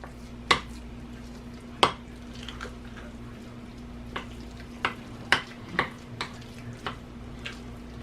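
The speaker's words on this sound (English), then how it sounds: "Now we're going to stir this until" Turkey burger mixture with green peppers and onions being stirred in a pan, soft squishing scrapes broken by sharp clacks of a utensil against the pan, irregular and close, over a low steady hum.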